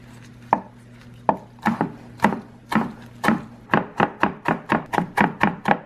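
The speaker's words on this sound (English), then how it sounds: "Chop up this basil now." Fresh basil chopped with a knife on a board, a run of sharp, close thunks, sparse at first and then quickening into a steady rapid rhythm.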